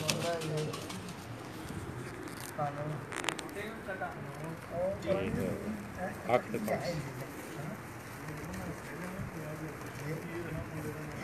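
Pigeons cooing softly on a rooftop loft in Jeddah, Saudi Arabia, with intermittent low coos and some fluttering and rustling, heard faintly beneath someone talking.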